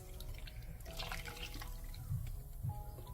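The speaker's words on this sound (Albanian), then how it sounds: "Vazhdojmë tani këtu te uji që të shtojmë edhe lëng limoni" Lemon juice trickles into water while watermelon rind jam is being made: a soft, quiet stream and a few drips, faint and close, with no voices.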